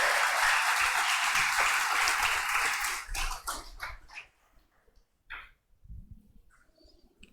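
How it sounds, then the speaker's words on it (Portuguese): A church congregation breaks into loud applause and shouting that stops abruptly about halfway through. Scattered claps and some noises follow, and a dog can be heard faintly. "Dê um aplauso e um grito de vitória a Jesus."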